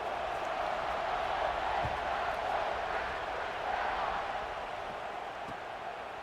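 A large stadium crowd in the College Football 26 video game sends up a steady, dense roar of cheering that holds at an even level throughout, just before kickoff.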